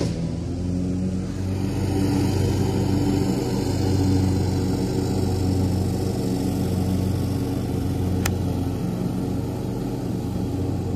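A mower runs steadily on a golf course, a close, continuous engine drone that holds level throughout with no voices over it.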